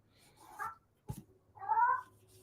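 A pet cat meows indoors near a balcony door, two clear separate calls with a short thump between them, close and fairly quiet, no talking over them.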